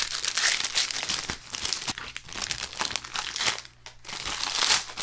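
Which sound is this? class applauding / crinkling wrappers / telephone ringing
crinkling wrappers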